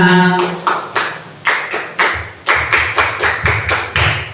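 A group performs the rhythmic Scout clap (tepuk pramuka), loud synchronized claps in a patterned beat, with some thudding body slaps, about a dozen strikes in quick groups with no talking.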